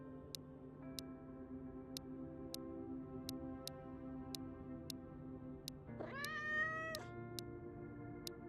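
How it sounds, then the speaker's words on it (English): A cat meows in the Road to Vostok video game, one drawn-out rising mew near the end, heard over a steady low hum and a regular clock-like tick that runs throughout. "I do like the little cat noise that it makes"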